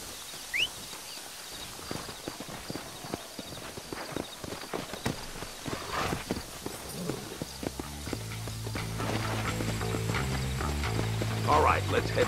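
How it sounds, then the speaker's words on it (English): Horse hooves clip-clop at a walking pace in the video game Red Dead Redemption, irregular knocks joined by a sustained low musical tone toward the end. "There should be some horses for us across the way."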